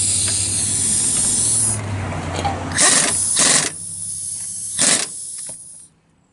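Loud pneumatic impact wrench bursts tightening front brake bolts on a 2006 Dodge Grand Caravan, a long hissing run followed by several short sharp rattling bursts, close by, then falling quiet.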